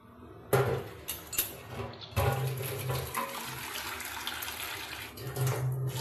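Water poured or running from a tap in a kitchen while cooking a fish curry, a close, splashy gush that starts abruptly, surges again after a short break and keeps flowing steadily.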